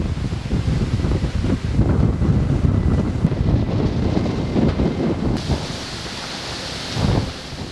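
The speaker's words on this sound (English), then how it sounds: "a very bad storm hit the area." A violent storm roars with strong wind buffeting the microphone, rumbling thunder and rain, the noise steady and loud before easing and swelling again near the end.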